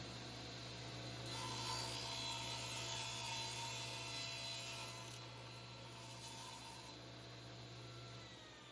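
A table saw with a tapering jig cuts a taper along a wooden table leg, a steady close broadband whine that holds for most of the clip and eases near the end.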